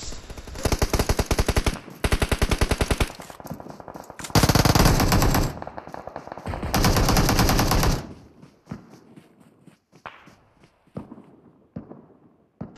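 Sustained automatic gunfire from a battle royale game in a competitive scrim match rattles in long, loud bursts, then gives way to scattered single shots and quieter distant pops.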